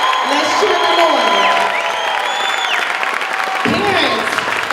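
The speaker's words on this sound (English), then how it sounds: "Let's cheer them on." Audience at an 8th grade STEM Academy graduation cheers and applauds as graduates take a bow, a dense crowd roar with whoops that fades briefly then swells again.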